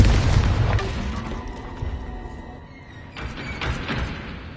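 A Confringo fire spell blast in the video game Hogwarts Legacy: a loud, deep boom at the start that fades into a rumbling, crackling tail, with a second swell of fiery bursts near the end.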